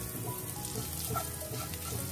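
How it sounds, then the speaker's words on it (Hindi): Grated ginger fries in butter in a kadhai, giving a steady, close sizzle with light stirring noises throughout. "अदरक को फ्राई करने के बाद"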